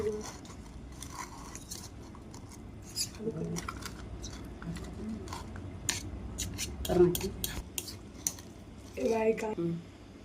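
A spoon scrapes and clinks in a bowl as chicken masala, salt and chilli powder are mixed for a hostel-style fried chicken dish, giving soft irregular clatter and squishing under occasional talk.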